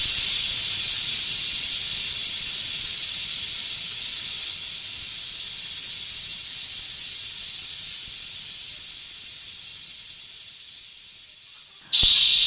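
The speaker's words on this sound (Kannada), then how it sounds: "ಕುಕ್ಕರ್ ಕ್ಲೋಸ್ ಮಾಡೋಣ. 7ರಿಂದ 8 ವಿಷಲ್ ನೋಡಿಸ್ತೀನಿ ಇವಾಗ" A pressure cooker on the stove, cooking country chicken, hisses steam in a loud, steady rush that slowly fades, then breaks into a sharp, shrill whistle at the very end.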